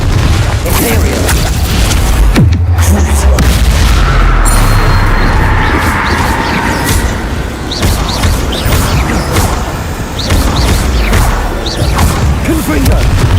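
Confringo blasting spell going off in Hogwarts Legacy, a loud booming blast with a sharp crack early on, set within a continuous, dense din of magical combat effects and rumbling impacts.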